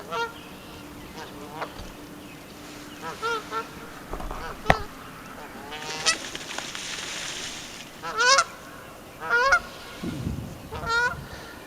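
Geese on a pond honk and squabble in several loud, close bursts, irregular calls breaking over a quiet outdoor background, with a brief low voice in between.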